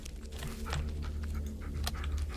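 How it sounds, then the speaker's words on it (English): A dog pants in the horror video game Blair Witch, quick rhythmic breaths with faint whimpering over a low ambient drone, close and moderately quiet, with no talking. "So many dogs out here."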